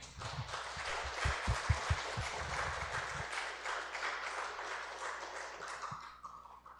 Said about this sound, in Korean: 여러분 한번 박수로 맞아 주시겠습니까?